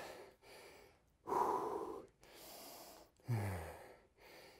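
Heavy breathing from a person recovering after kettlebell swings, close and loud, with long deep inhales and exhales in a slow rhythm, one ending in a raspy, wheezy breath.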